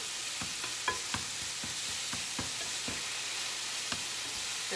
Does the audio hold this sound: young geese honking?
no